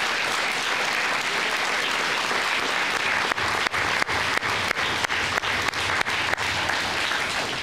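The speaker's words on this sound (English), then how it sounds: "Give them a round of applause." A graduation audience applauds the new graduates, a dense, steady wash of clapping across a large crowd, with a few sharp louder claps standing out near the end.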